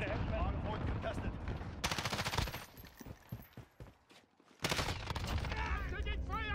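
Loud, dense automatic gunfire from a Call of Duty Modern Warfare multiplayer hardpoint match, bursts rattling continuously with a brief dip near the middle before heavy firing resumes, under game chatter.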